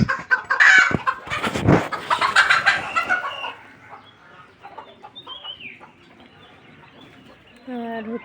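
Quail on a farm in Kotalipara, Gopalganj, calling in loud close chirps and clucks for the first few seconds, then quieter scattered calls, with a person speaking briefly near the end.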